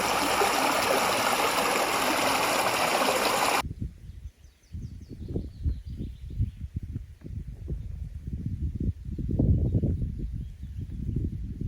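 Water trickles and burbles steadily over stones, a small brook flowing nearby; a louder rushing wash at the start cuts away abruptly.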